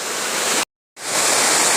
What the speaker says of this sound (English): It is the widest waterfalls in India.